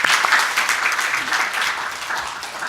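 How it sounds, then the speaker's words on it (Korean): A church congregation at a Sunday sermon in a Presbyterian church claps together in sustained, dense applause that stays loud and even for its whole length, then eases slightly toward the end. "우리 한번 같이 박수 치십시다."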